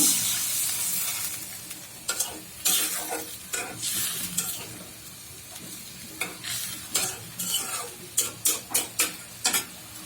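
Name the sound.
eggs frying and being stirred in spiced gravy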